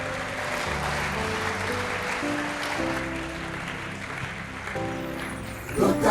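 A church congregation claps and cheers in sustained applause during a service, with an organ or keyboard chords sounding underneath and a brief louder burst at the end.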